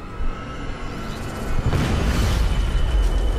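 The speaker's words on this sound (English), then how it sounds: "Explosions!" An explosion in the video game Deus Ex: Mankind Divided hits with a broadband boom about halfway through, then rumbles on loudly over a steady background of game noise.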